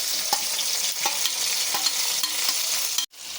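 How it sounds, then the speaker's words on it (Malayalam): Sliced onions fry in refined oil for dum biryani, giving a bright, dense, continuous sizzle with faint stirring ticks. The sound cuts off sharply near the end. "നമുക്ക് കുറച്ച് റിഫൈൻഡ് ഓയിൽ ഒഴിച്ചു കൊടുക്കാം. കുറച്ച് സവാള ഇട്ട് കൊടുക്കാം."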